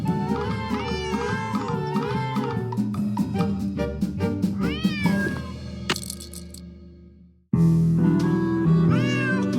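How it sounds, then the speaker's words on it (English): A cat meows repeatedly in the video game Nancy Drew: Secret of the Old Clock, loud and close, with a run of drawn-out cries that break off into a brief silence and then return. "Otherwise, he'll just keep meowing."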